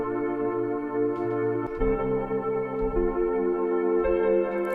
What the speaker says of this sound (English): So I'm gonna go ahead and use this preset called Autumn Haze inside Logic as well,